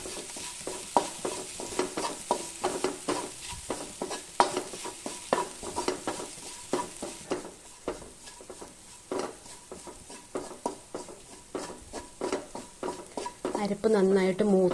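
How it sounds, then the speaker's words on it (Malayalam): Spice paste with turmeric and salt frying in a pan, stirred with rhythmic scraping strokes over a steady sizzle, close by; a voice joins faintly toward the end. "മഞ്ഞൾപ്പൊടി, ഉപ്പ് എന്നിവ ചേർത്ത് നമുക്ക് അരപ്പ് നന്നായിട്ടൊന്ന് മൂപ്പിച്ചെടുക്കാം"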